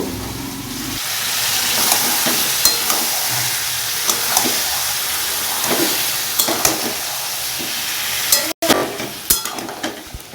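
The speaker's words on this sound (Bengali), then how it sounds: "কিছুক্ষণ পর পর নাড়াচাড়ার মধ্যে রাখতে হবে" Lotte fish pieces fry in a wok over medium heat with a continuous close sizzle, while a utensil stirs them at intervals and makes scattered scraping knocks.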